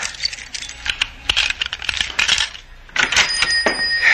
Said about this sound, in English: Stop fumbling with those keys. Open the door.